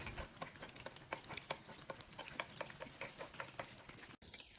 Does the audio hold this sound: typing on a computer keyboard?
no